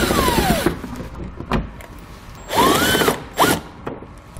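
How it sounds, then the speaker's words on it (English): A socket wrench with an 8mm socket backing out fender liner bolts on a 2018 Jeep, heard as a few separate whirring, ratcheting bursts up close with short pauses in between. "remove the 3 bolts located on your fender liner in these locations with an 8mm head socket"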